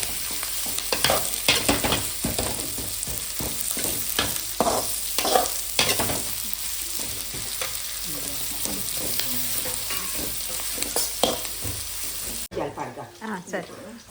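Country chicken frying and being stirred in a pan for a Mangalore-style sukka with curry leaves, a steady close sizzle with repeated scraping stir strokes, ending abruptly in quieter sizzling.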